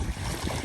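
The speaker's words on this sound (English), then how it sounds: "we got some water in from these waves" Wind-driven river waves wash against a Wilderness Systems Recon 120 kayak in high wind, a brief, loud burst of splashing water mixed with blustery wind rumble.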